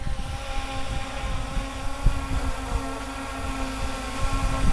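Wind buffeting a hovering Yuneec Mantis Q drone: a steady rushing blast of wind noise over a constant propeller whine, loud and close, with occasional gusty thumps.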